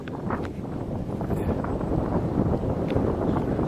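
Wind rising suddenly outdoors near a boat on the water, a loud rough buffeting roar across the microphone that grows steadily stronger.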